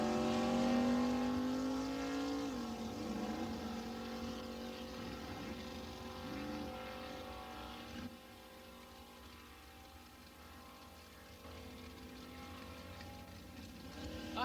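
Gary Guido's Buick drag car powers down the strip in the left lane, a loud engine roar climbing in pitch over the first seconds, then holding a steady drone that fades somewhat as the car pulls away.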